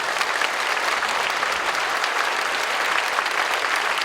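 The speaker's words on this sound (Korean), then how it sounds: "우리 후손들을 위해서 박수 한번 해주시면 고맙습니다" Steady, dense applause from a congregation at a church prayer meeting honoring Korean War veterans, sustained and even throughout without pauses.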